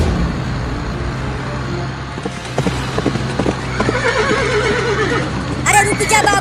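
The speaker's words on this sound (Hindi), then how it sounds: "बाबू का घोड़ा तो पहले ही रेस में आगे हो गया।" Horses race in a comedy sketch, with rhythmic hoof clip-clops through the middle and a loud neigh near the end, over background noise and mixed with people talking.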